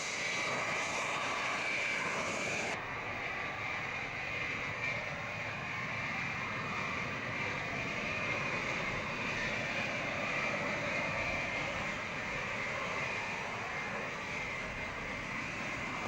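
A Victor K Mark II jet aircraft taxiing gives a steady, loud engine roar with a high whine on top, continuous and close for the whole stretch.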